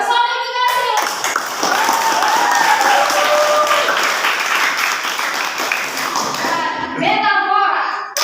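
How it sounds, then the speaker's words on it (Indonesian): Classroom applause for the student groups awarded five stars, a dense patter of clapping hands running steadily for several seconds, with children's voices and a teacher talking over it at the start and end. "Beri tepuk tangan untuk kelompok yang mendapatkan bintang 5"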